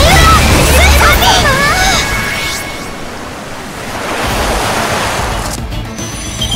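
A crashing wave effect from Hokusai's Noble Phantasm in Fate/Grand Order, a loud rushing surge of water that swells again midway, after a brief swirl of bright chiming tones at the start.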